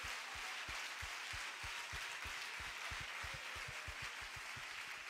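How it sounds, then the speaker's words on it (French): A congregation at a church gathering claps together as an offering to the Lord, quiet rhythmic claps over a constant wash of crowd noise, steady throughout and faint overall. "give a clap offering to the Lord?"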